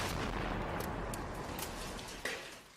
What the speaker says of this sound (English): The occasional sound of an explosion and sporadic gunfire echo off the surrounding hills.